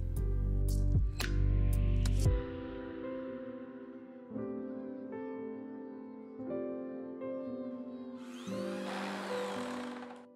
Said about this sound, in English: simply drill a hole on the joint, then insert through